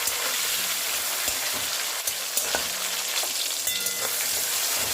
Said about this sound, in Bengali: এবার এর মধ্যে দিয়ে দিচ্ছি 2টো মিডিয়াম সাইজের টমেটো। টমেটোটাকে ভেজে নেব।